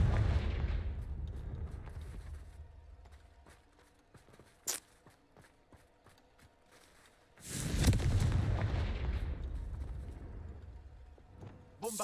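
Confringo blasting spells go off in the Hogwarts Legacy video game as heavy booming explosions. A loud blast opens the clip and rumbles away, a sharp crack lands in the middle, and a second big boom swells near the end, with no voices.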